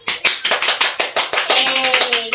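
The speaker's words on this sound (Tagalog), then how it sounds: "Bigyan natin sila ng masigabong palakpak" Pupils in a classroom clap in a fast, fairly regular rhythm, sharp close hand claps repeating steadily, with a faint voice or tone rising near the end.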